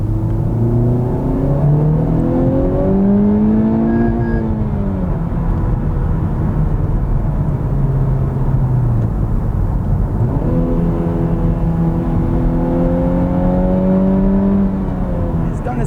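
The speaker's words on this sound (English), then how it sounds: "the exhaust has not changed, but the sound of the exhaust has changed" A 2020 Honda Civic Type R engine revs up and down in long rising and falling sweeps, loud and close, with a steady rumbling exhaust and artificially enhanced exhaust sound underneath.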